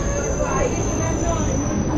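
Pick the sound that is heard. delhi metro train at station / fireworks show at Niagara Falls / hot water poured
delhi metro train at station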